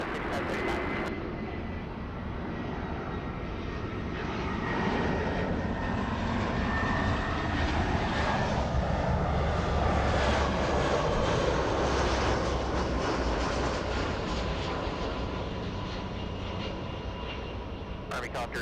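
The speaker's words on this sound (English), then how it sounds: "So for the next arrival, we have a Delta Airlines 6535 Los Angeles Tower 1250 at 7" A Delta Airlines Airbus A319 arrives on runway 24 at LAX, its engine roar swelling and holding loud and broadband for most of the stretch, with a faint voice beneath.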